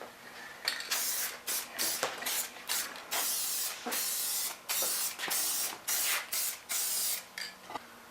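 Action HVAC Clear coating sprayed onto the pan of an HVAC unit in a string of short hissing bursts of uneven length, close and loud, separated by brief pauses.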